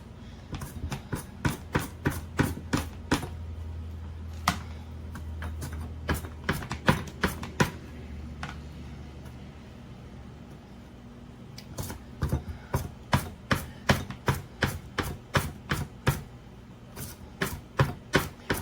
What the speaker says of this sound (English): I've got my cucumber washed and slightly peeled. I'm going to try and do this in some really thin slices.